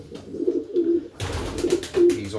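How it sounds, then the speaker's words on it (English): A racing pigeon coos in a loft, giving a few soft, low, rolling calls close by with brief pauses between them, while rustling and faint movement sounds fill the background. "Lovely, lovely pigeon."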